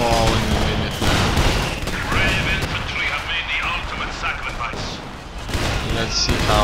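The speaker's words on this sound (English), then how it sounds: "Let's see how they're bombarding those positions there." Artillery bombarding positions in Company of Heroes 2, heard as a constant dense rumble of booms and shell fire mixed with scattered gunfire and battle noise throughout, with no gap.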